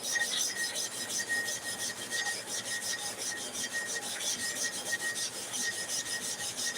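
Large animal clipper blades from Lister being sharpened on 180 grit abrasive, a continuous close scraping rasp in steady back-and-forth strokes, alone without speech.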